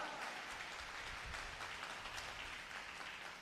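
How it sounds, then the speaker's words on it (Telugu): A church congregation clapping hard during a sermon, a dense continuous patter of many hands, faint and fairly distant, with no talk over it. "గట్టిగా చప్పట్లు కొట్టండి గట్టిగా"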